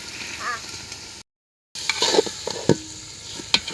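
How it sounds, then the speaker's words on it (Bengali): Fried mung dal and beef tripe sizzle in a pan as they are stirred, with crackling pops and scraping spurts around a short silent gap. "এখন ভাজা ডাইলটা দিয়া কষাই লমু।"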